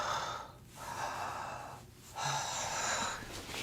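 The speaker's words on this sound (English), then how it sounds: "you just take a few deep belly breaths" Slow, deep belly breathing heard up close: long, airy inhales and exhales in a calm, relaxed rhythm, with no talking.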